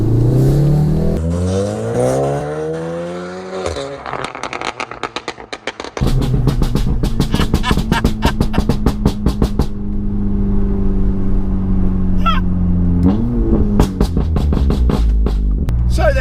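A loud, close engine of a tuned 460 bhp VW Golf R revs up through the gears, pitch climbing and dropping at each shift, then holding a high, aggressive roar.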